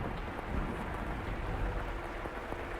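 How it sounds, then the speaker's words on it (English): Rain in the video game The House in Fata Morgana falls as a dense, steady wash of patter with low rumbling underneath, continuous and fairly close throughout. "The only sounds that can be heard in the dark corridors were the sharp pitter-patter of the rain, his footsteps, and his breathing."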